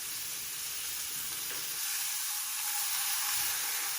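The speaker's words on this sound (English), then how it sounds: "Just get a nice sear on each side." Beef sears in a very hot pan, giving a steady, loud, even sizzle and hiss that runs the whole time with no talking.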